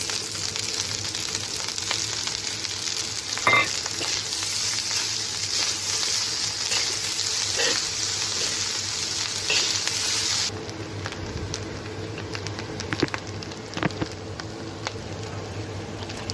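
Fried rice sizzles steadily in a pan, a dense continuous crackle with occasional stirring scrapes; partway through the hiss thins and quiets slightly but keeps frying. No one speaks.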